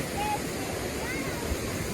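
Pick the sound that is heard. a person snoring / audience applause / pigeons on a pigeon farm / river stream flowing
river stream flowing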